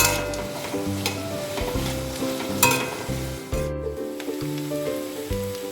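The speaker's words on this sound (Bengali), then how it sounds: "আমি পেঁয়াজটা ভেজে নিচ্ছি তাই গ্যাসের ফ্লেমটাকে একটু বাড়িয়ে নেব নাহলে পেঁয়াজ থেকে জল ছাড়বে" Sliced onions fry uncovered over a raised gas flame for chicken dopiaza, giving a close, continuous sizzle with occasional stirring scrapes, while soft background music plays underneath.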